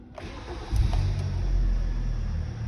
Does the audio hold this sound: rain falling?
no